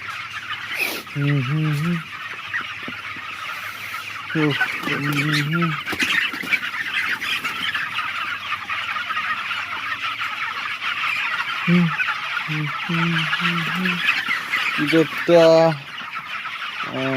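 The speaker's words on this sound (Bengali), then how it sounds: "দেখা যাক আমার মুরগিরা কেমন আছে" Birds in a yard give repeated harmonic honking calls in short clusters, with quieter stretches of rustling and background noise between them.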